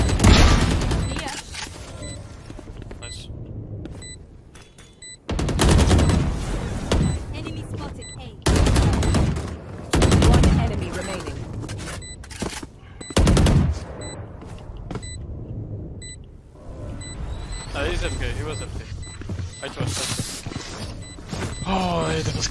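Rapid bursts of gunfire from the Valorant video game, with loud sharp volleys recurring through the match amid clicks and game effects, while players talk over the action.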